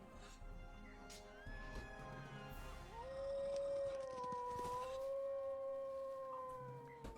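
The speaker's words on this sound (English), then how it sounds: "you hear it howl and yelp and starts moving away" A long wolf howl rising and holding steady, with a second howling voice overlapping, under faint background noise and occasional knocks, during a tabletop role-playing game session.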